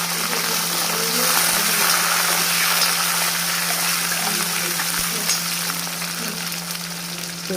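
Garlic, mustard seeds, fennel and curry leaves fry in hot oil for an eggplant thokku, a dense, steady sizzle that stays loud and close throughout with no talking.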